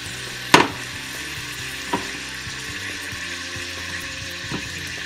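Shrimp frying in melted butter in a pan, a low steady sizzle broken by one sharp clatter early on and a couple of fainter knocks, with no speech.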